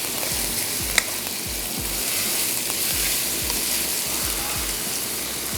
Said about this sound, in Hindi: थोड़ा सा कीमे को भूनते हैं। कीमे को भूनने के बाद फिर हम इसमें ऐड कर देंगे मटर।